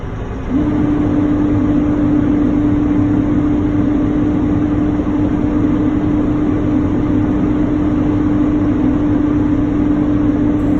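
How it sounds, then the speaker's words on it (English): A Class A truck's engine held at raised revs to build air brake pressure gives a loud, steady, close drone with a constant low hum that holds unbroken for about ten seconds. "So we're gonna give it a little gas, rev it up,"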